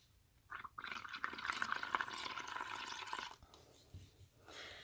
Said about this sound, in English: you're going to want to blow into there and have the bubbles go over.